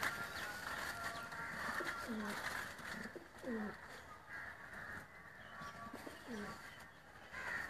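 Pigeons coo softly in low, throaty repeated calls against a steady hum of background noise, fairly faint and close.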